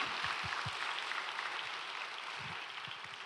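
Congregation applauding during a church worship service after a handbell performance, a steady wash of clapping from many hands filling the room at moderate volume, with no voices over it.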